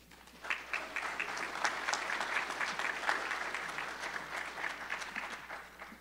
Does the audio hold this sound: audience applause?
yes